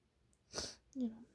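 A single sharp sneeze from someone with an allergy or cold, loud and close, followed by a short voiced sniff or exhale.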